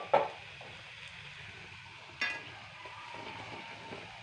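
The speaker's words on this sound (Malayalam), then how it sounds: "അതിനിടയ്ക്ക് നമ്മുടെ ഫ്രൈ ഒക്കെ ഒന്നും കൂടി ഫ്രൈ ആകാൻ വേണ്ടി വെച്ചതാണ്." Meat fry sizzles softly as it is re-fried in a pan, a faint steady crackle broken by a few sharp clinks of utensils against the pan.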